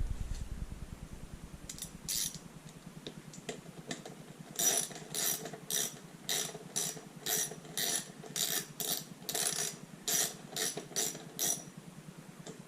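A ratchet tightens the bolts of a carbon fiber quick-turn gas cap on a 2020 BMW S1000RR motorcycle, with close, crisp clicking bursts in repeated strokes that become regular and rhythmic in the second half.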